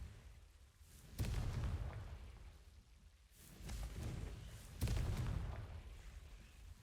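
Two loud booming blasts land about three and a half seconds apart, each a broad burst with a rumbling tail, from the Confringo fire spell in Hogwarts Legacy. No voices are present.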